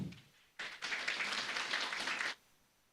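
A church congregation at a Sunday service breaks into a short, dense burst of clapping lasting under two seconds. It starts abruptly, stays fairly soft and distant, then stops cleanly, leaving quiet.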